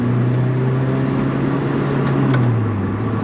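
A 2005 Lotus Elise driving, its mid-pitched engine droning loud and close with a steady note that dips slightly late on, with road rumble underneath and no talk.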